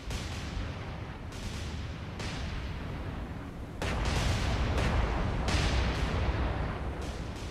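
Naval gunfire in the World War II naval game War on the Sea, a continuous heavy rumble of booming salvos that rises sharply in loudness partway through, dense and sustained, with no voices.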